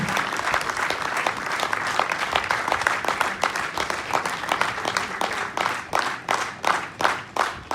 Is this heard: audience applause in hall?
yes